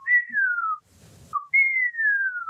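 A person whistles, imitating the low warning cry of the Barbegazi, an Alpine snow creature: two long descending whistled notes, each starting with a short blip, separated by a brief breathy pause, close and clear.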